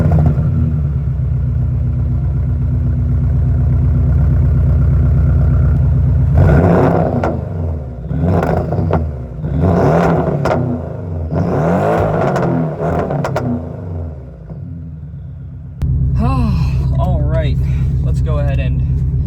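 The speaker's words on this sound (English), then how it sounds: "let me go ahead and start it up and give you guys some good revs" A four-cylinder car engine idles steadily, then is revved hard several times in sharp rising bursts before settling, with a person talking between the revs.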